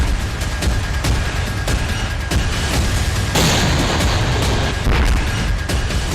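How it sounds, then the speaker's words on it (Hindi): Continuous heavy rumbling blasts and booms, dense and loud, with sharp cracks of gunfire scattered throughout. "आप देख सकते हैं जबरदस्त धमाके हो रहे हैं।"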